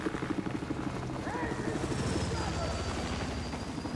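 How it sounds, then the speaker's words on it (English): A helicopter flies in Battlefield 4, a steady rotor chop and engine whine throughout, loud and close, with a voice talking over it. "Helicopter."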